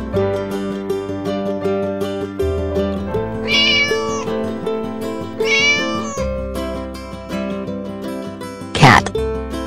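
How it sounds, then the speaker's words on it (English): Two clear cat meows, a short gap between them, ring out over a cheerful looping music track, followed by a brief noisy burst near the end. "Cat."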